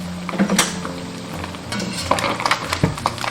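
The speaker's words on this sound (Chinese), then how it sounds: "这是中小火炸了15分钟" Crucian carp fries in oil over medium-low heat, a steady bubbling sizzle joined by a few clanks of a pan being shaken or stirred, close and clear with no talking.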